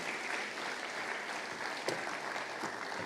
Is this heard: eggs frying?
no